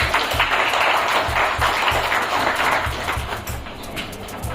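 A crowd claps together in a steady burst of applause, fairly loud and close, with some low thumping underneath.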